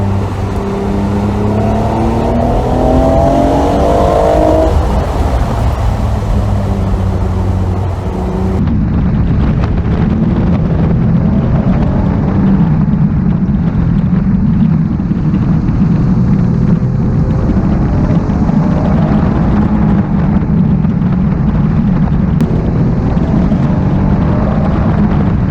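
Honda NSX NA1 engine running while driving, a steady loud rumble with rising and falling engine tones in the first seconds and strong wind buffeting throughout, no talk.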